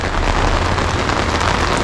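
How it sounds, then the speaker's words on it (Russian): Rain falls in Lazarevskoye, Sochi, as a loud, dense, continuous hiss and patter, steady and close, with a low rumble underneath, likely from wind. "В Лазовской просто опять пошел дождь."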